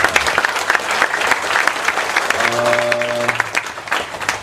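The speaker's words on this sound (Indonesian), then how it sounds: "Saya mohon kita semua tepuk tangan cinta dan simpati" An audience at a Mocopat Syafaat gathering breaks into sustained, loud crowd applause, with a brief sustained musical or electronic tone rising over the clapping midway through.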